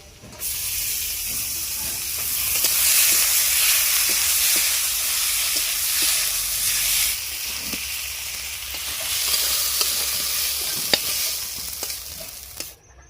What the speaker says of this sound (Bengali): তো আমি আজকে চিকেনটাকে একটু কড়ার মধ্যে নেড়ে দিয়ে